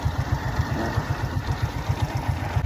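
A motorcycle engine left unstarted for fifteen days runs with a fast, even, close-up thumping pulse, steady throughout with no talking.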